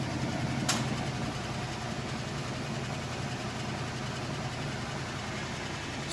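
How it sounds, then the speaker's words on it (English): A Whirlpool washing machine, part of a matching washer and electric dryer set about three years old, in its final spin cycle: a steady, smooth, fairly quiet hum with a low rumble, continuous throughout, with no talking. "here we go into that final spin cycle."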